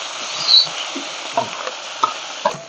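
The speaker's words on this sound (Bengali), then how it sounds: "একটু হালকা করে প্রথমে নেড়ে চেড়ে একটু ভেজে মতো নেব" Spice paste frying in butter for butter chicken, stirred in a pan: a steady broadband sizzle with a few soft scraping knocks from the spoon, close and moderately loud, with no voices.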